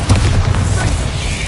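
A Bombarda explosion spell in Hogwarts Legacy gameplay lands as a deep, loud boom with a rumbling low-end tail that fills the short moment.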